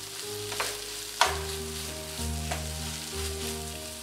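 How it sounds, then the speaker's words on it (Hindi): Paneer bhurji sizzles steadily in a pan at medium heat while a spoon stirs it, giving a few sharp scraping knocks over the continuous frying hiss, up close and without talk. "अब इसको अच्छी तरह से मिक्स कर देते हैं और मीडियम हीट पर 2 मिनट तक इसको हम पका लेते हैं।"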